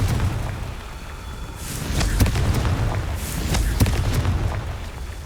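Fiery Confringo spell blasts from the Hogwarts Legacy video game: a low, rolling boom swells twice with sharp crackling bursts at its peaks, over a steady rumbling backdrop, loud and close.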